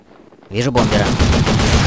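Close, loud gunfire in Counter-Strike 1.6: a sudden burst of automatic shots starts after a quiet half second and continues steadily to the end.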